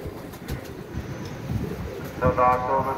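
A pet pigeon coos in a few soft, low rounds, close by, with some background noise and a brief voice near the end.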